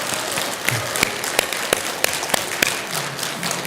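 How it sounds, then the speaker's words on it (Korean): Temple congregation at a Buddhist dharma talk applauds a newly arrived monk in a steady, moderately close round of many hands clapping, with a few sharper individual claps standing out. "우리 박수 한번 보내주세요."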